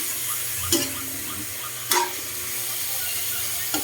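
Chicken adobo with plenty of garlic cooks in a pan, giving a soft steady sizzle with a few sharp clinks or stirs near 0.7 and 1.9 seconds and a faint one at the end.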